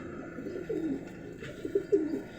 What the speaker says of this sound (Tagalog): Ito yung ibon, no?